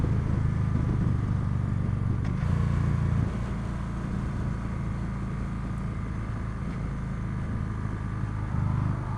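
A 2015 Victory Cross Country motorcycle cruises along with its engine droning steadily under heavy wind rush, the throttle swelling briefly a few times, with no talking.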